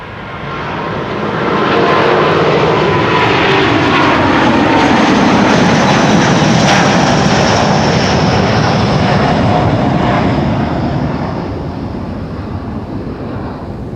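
Jet engines on a Delta Air Lines Airbus A330neo bound for Boston roar past at Amsterdam Schiphol Airport, building quickly to a loud, close rush, holding for several seconds, then easing away.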